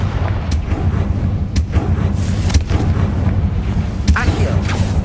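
Confringo blasting spells explode in Hogwarts Legacy on PC: repeated sharp booms burst out at irregular intervals over a loud, dense rumble, with voices mixed in.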